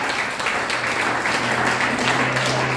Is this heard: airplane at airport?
no